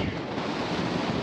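Strong coastal wind buffets the microphone beside a lighthouse at Cape Jaffa on the sea, a loud, continuous roaring rush with no pause.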